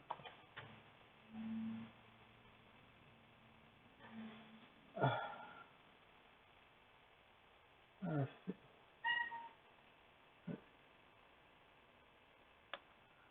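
Cat meowing a handful of times in short, separate calls spread across a quiet stretch, close and fairly clear, with faint ticking and a person's voice briefly calling to it.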